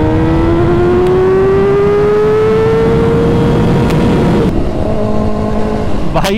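A Kawasaki ZX6R motorcycle accelerates hard at high speed in third gear, its engine whine climbing steadily and loudly for several seconds before the pitch drops slightly, with strong wind roar throughout.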